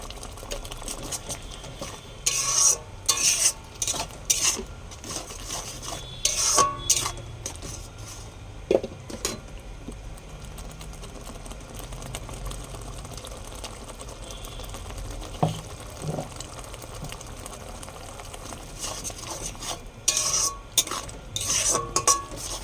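Fish curry masala sautéed and stirred in a pan, with salt added, producing a low bubbling sizzle under repeated bursts of utensil scraping and clinking against the pan, busiest at the start and the end.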